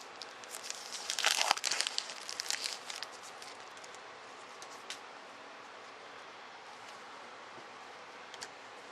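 A pack of printer paper for a Polaroid cell phone printer being opened, with a burst of sharp crinkling and tearing in the first few seconds, then faint scattered rustles against a quiet background.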